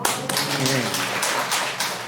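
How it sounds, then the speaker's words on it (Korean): A Korean church gathering gives a quick round of applause for a participant's answer, dense, steady clapping from many hands that fills the room, with a voice briefly audible underneath. "박수 한번 쳐주세요"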